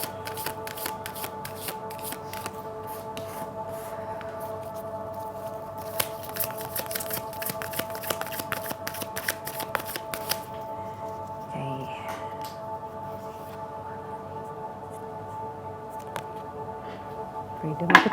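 Oracle cards are shuffled by hand in an indoor room, giving repeated crisp riffling bursts and soft papery slaps, clustered and then tapering off. A steady hum runs underneath, and a voice speaks briefly.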